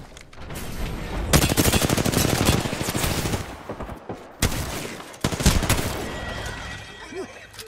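Gunfire rattles through an Apex Legends fight in two long bursts of rapid automatic shots, with a few shorter volleys after them and faint game effects between the bursts.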